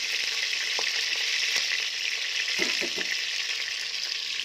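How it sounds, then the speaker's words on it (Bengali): Potato pieces fry in hot oil in a pan until browned, giving a continuous close sizzle with a few soft clinks of stirring partway through and no voices. "এই যে আলুগুলো একটু লাল করে ভেজে নেবো"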